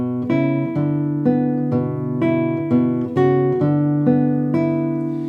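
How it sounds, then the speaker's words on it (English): Guitar playing Brahms' Lullaby with the melody in the bass, plucked low notes carrying the tune under gentle repeated upper-string accompaniment, a slow, even rhythm of clear picked notes, close and solo, with no talking. "So this time around, I put the melody in the bass, which sounds like this."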